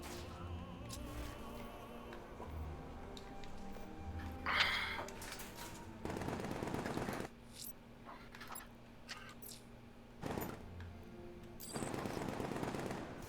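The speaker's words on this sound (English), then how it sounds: "Why do I hear gunshots?" Gunfire in the Batman: Arkham Knight video game, set in Gotham: rapid bursts of shots come in several separate clusters over quiet game ambience.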